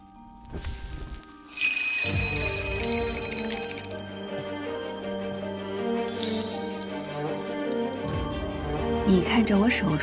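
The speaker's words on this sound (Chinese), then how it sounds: "你看着我手中的铃铛，每听到一声响，心中便默念一个空字。" A small hand bell rings in a period drama scene, with two bright bursts of ringing over a sustained tonal background and a voice entering near the end.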